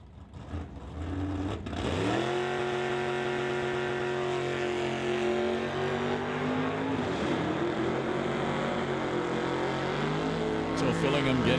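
A 1968 AMC AMX drag racing at Mission Raceway, a steady loud engine drone rising after a brief start and holding high revs down the strip, heard from a distance over the track.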